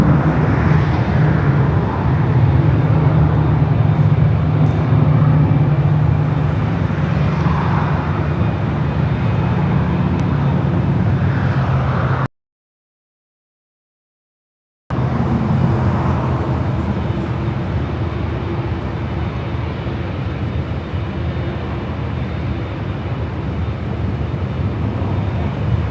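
Boeing 777-200ER at LAX being pushed back toward a taxiway, a continuous distant low rumble of jet engines and airport noise, steady and loud throughout, broken once by a short silent gap.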